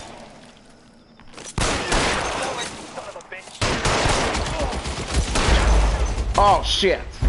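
Gunfire in the video game L.A. Noire, with dense volleys of loud shots crackling in bursts separated by a brief lull, joined by a man's short exclaimed remark and other voices over the shooting.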